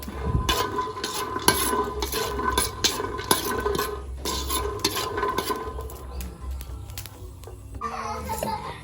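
Freshly picked produce dry-roasted in a pan until cooked, with repeated scraping and clinking stirs against the metal, rhythmic and close, over a faint background hiss.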